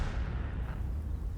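A single heavy tank cannon shot booms in a World of Tanks-style battle game, a loud close blast that decays into a low rumbling tail.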